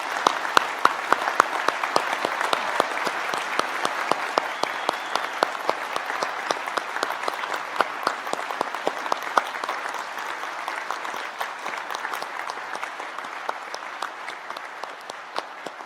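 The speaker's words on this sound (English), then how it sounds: "I wonder if you'd all join me in applauding the wonderful achievements of these graduates" Large audience at a university graduation ceremony in Newcastle, Australia applauding graduates, dense sustained clapping filling the hall and slowly easing toward the end.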